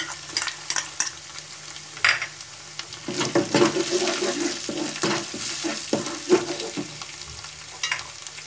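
Ginger garlic paste and chopped green chili fry in a pan for chicken tikka gravy, sizzling steadily while a spoon scrapes and clinks against the metal in irregular strokes, close and moderately loud.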